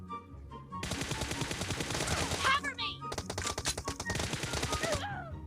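Automatic gunfire in PUBG Mobile: two long, loud bursts of rapid shots separated by a short pause, with quieter sounds at the start and end.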